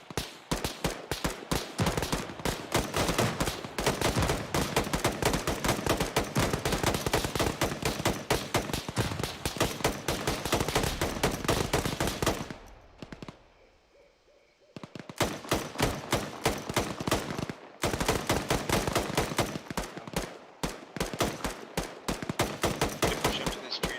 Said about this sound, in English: Let's get shooting, guys.